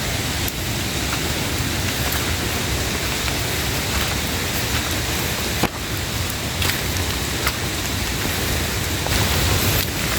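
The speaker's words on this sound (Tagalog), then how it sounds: "Although humina na yung ulan, lakas pa rin yung ambon." Steady rain and drizzle in a forest make a dense, even hiss of drops on leaves and ground, with a few faint taps standing out; no one speaks.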